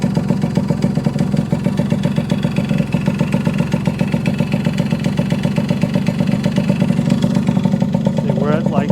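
A 1974 Yamaha RD60 small motorcycle engine idles at around 1500 RPM, a steady, close, fast-pulsing two-stroke putter that stays even throughout.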